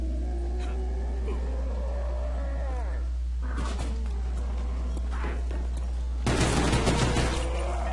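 Gunfire rings out in the zombies mode of Black Ops 1, a dense volley of video game shots erupting near the end over a busy game soundscape with scattered effects.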